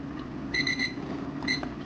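A kitchen timer alarm goes off in a home kitchen during the simmering of a braised hairtail fish dish, beeping in two short bursts of rapid repeated tones with a pause between them.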